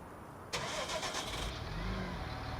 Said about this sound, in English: we'll grab David's tractor.